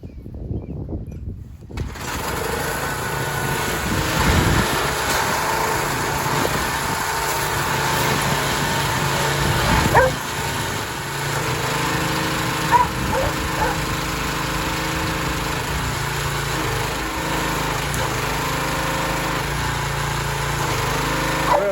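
Pressure washer engine running after a pump replacement, starting abruptly and settling into a steady loud buzzing drone with a few brief knocks and surges.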